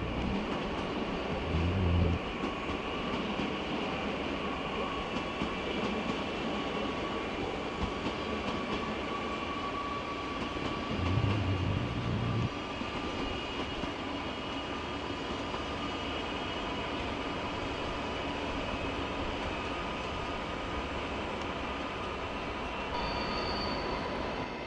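A double-decker regional train heading to Nuremberg rolls past outside München Hbf in the evening, a steady broadband rumble of wheels on rail with a brief high squeal near the end.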